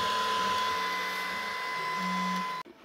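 A 3D printer prints an RC part, giving a steady whirring hum with a constant high whine and shifting low motor tones as the head moves, which cuts off abruptly near the end.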